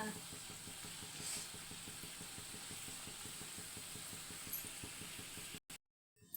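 Bajji frying in hot oil on a gas stove: a steady, dense sizzle with a low rumbling bubble runs close and continuous, then cuts off abruptly near the end.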